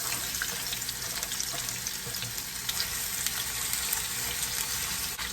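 About six medium onions frying in two to three tablespoons of olive oil in a pot, a steady, dense hiss and crackle that stays close and even throughout, with no voices.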